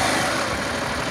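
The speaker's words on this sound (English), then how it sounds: "the KTM engine does have that clankety clank sound" KTM 790 Adventure R motorcycle engine idling, a steady close mechanical running sound with a busy, clattery texture and no pauses.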